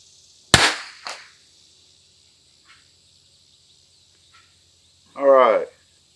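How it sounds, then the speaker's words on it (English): A single sharp crack from a Christensen Arms Ranger 22 rifle at a 100-yard range rings out near the start, followed by a short echo, faint clicks and a brief burst of noise near the end. "And this is the 5th shot on this target."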